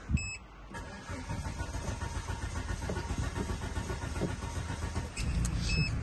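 A 1996 Volvo 850 R engine turns over and catches, then runs with a steady low rumble; a few short electronic beeps sound at the start and end.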